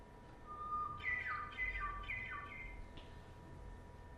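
A songbird's song played back slowed down, so its whistled notes come out as low, drawn-out sliding tones over a faint hiss.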